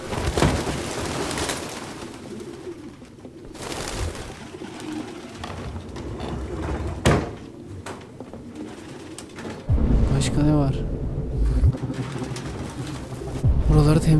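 Pigeons coo softly in a game environment in Detroit: Become Human, repeated low calls alongside ambient rain-like noise, with someone talking over parts of it.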